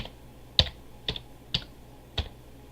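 Four separate keystrokes on a computer keyboard, crisp and close with short gaps between them.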